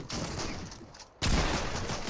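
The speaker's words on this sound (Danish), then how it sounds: "Hvordan ramte de der skud, ikke, Nuffy?" Gunfire in the Fortnite video game, a steady rattle of shots that breaks into a louder, close burst partway through.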